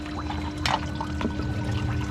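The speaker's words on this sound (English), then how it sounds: "There's water coming out of there." Water gushing and splashing out of a placer gold mini-jig during a test run, a steady close pour with a brief surge near the start, playing alone.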